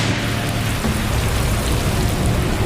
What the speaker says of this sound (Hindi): तूफान की ताकतवर हवाएं और भयंकर बारिश अचानक ही समूचे राज्य को चपेट में ले लेंगी।